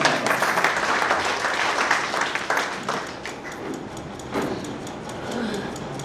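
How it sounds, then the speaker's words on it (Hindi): Loud audience applause at a literary academy gathering, a dense wash of clapping that swells early then thins slightly, with faint voices mixed in. "एक बार जोरदार तालियां बजा करके हम"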